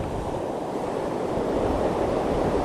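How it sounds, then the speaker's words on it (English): Ocean waves wash steadily onto a beach in a continuous broadband roar, with wind blowing across the microphone and no voices. "You can watch the waves"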